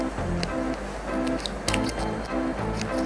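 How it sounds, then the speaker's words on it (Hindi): Wet squishing and dripping as spiced pani puri water is stirred and mixed by hand or spoon, a series of soft squelches and splashes close up, with a faint hum underneath. "तो अब हम मिक्स कर लेते हैं गोलगप्पों का"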